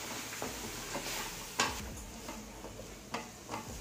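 Vegetables with onion, tomato and chili powder sautéing in a pan, with a soft steady sizzle under intermittent scraping and clinking strokes of a stirring spoon, close and quiet.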